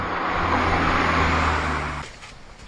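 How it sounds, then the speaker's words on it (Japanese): A car fitted with a road-legal aftermarket exhaust muffler revs loudly at full throttle with a hissing, rushing exhaust note and a steady low drone, then the engine sound cuts off abruptly into near quiet. "全開にするとブシューって感じの独特の音が出ます。"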